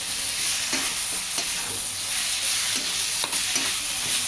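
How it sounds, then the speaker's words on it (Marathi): Fried eggplant mashed for baingan bharta sautéing in a pan, a steady close sizzle broken by occasional scraping stirs of the spoon, no voices. "आता हे परतून घेणार आहोत आपण याच्यामध्ये."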